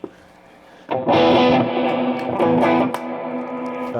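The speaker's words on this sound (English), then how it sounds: "oftentimes I'm going from this tube screamer to this distortion" Electric guitar run through tube screamer and distortion pedals: a soft note first, then a loud saturated, sustained chord with dense overdriven harmonics, held and slowly fading, no talking.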